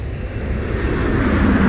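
A steady, loud roar of an airplane passing overhead in the video game Vigor, a broad continuous drone that swells slightly toward the end, heard alone.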